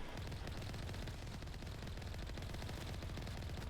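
Rapid automatic gunfire from mercenaries in the Mass Effect 1 Legendary Edition video game, a dense, continuous volley of shots that fills the whole stretch without pause.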